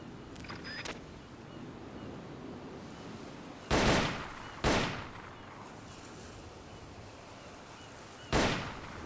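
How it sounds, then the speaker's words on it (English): An M16 assault rifle fires in a Metal Gear video game as three or four loud, sharp bursts spread across a quiet background hum, each report trailing off quickly. "The M16 is a standard assault rifle, capable of rapid fire."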